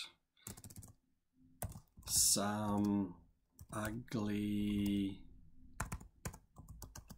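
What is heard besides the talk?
typing on a computer keyboard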